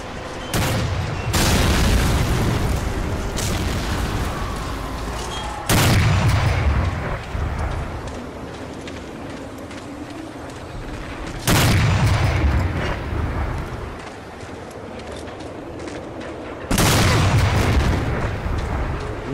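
Tank cannon fire and explosions in the World War II shooter Medal of Honor: Breakthrough: four heavy, loud blasts land about every five to six seconds, with continuous rumbling battle noise between them.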